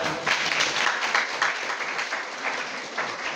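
An audience at a college National Science Day celebration breaks into steady applause, a dense wash of many hands clapping throughout at even loudness, with faint voices mixed in.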